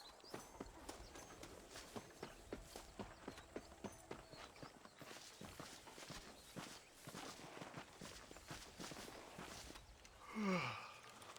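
Horse hooves clip-clop steadily in Red Dead Redemption, a regular walking rhythm of close hoofbeats running through most of the stretch, with a brief breathy swell near the end.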